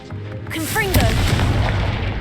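A Confringo fire spell bursts in the game Hogwarts Legacy with a loud booming blast that swells and rumbles on for about two seconds, with brief tonal game sounds layered over the start.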